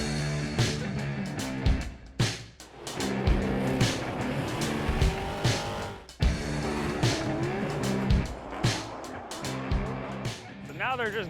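Formula Drift cars running practice laps at Long Beach, with loud engine roar and repeated tire squeals from cars passing close by, continuous throughout with brief dips.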